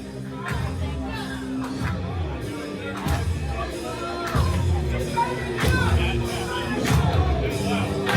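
A crowd at a live pro wrestling show in Mattapoisett, Massachusetts, chatters and whoops with scattered shouts and bursts of cheering, while a voice talks over the lively hubbub.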